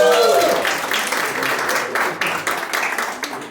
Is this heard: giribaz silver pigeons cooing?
no